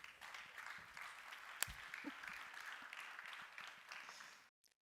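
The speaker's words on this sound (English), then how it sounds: "Please, a round of applause for Johan." A conference audience at an ocean summit in Aarhus gives a round of applause for a speaker, fairly quiet and distant dense clapping that holds steady, then stops abruptly into silence.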